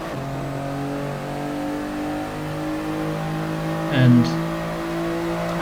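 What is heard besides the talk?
race cars starting a race in GT Sport video game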